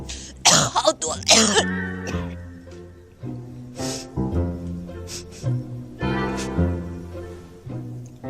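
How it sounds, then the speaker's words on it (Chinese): A few harsh coughs and throat-clearing bursts come close up in an indoor scene from a Chinese period drama, set against a soft sustained musical background, with further scattered coughs later. "你咳嗽好点没？"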